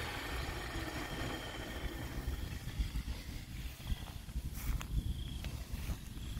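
An electric brush cutter fitted with a 10-inch, 12-tooth circular blade runs steadily at close range, giving a continuous loud motor whine and rumble with no talking.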